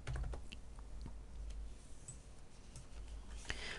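Quick, light keystrokes tapped on a computer keyboard while entering text in an Access database, a faint run of soft clicks over a low background hum.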